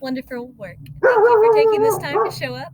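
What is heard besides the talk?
dog barking in the background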